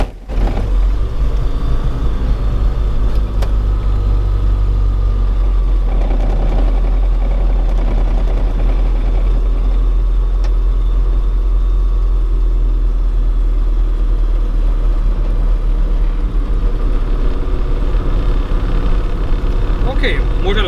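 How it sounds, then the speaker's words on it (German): An Aerospool WT9 Dynamic light aircraft engine cranks and catches, then settles into a steady, loud idle that drones continuously throughout, with faint speech over it. "Und dann wird jetzt der Motor gestartet."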